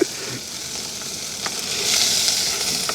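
Onions and green chillies fry in a pan during outdoor village cooking, making a loud, continuous sizzle close by, with occasional stirring scrapes and the hiss swelling midway.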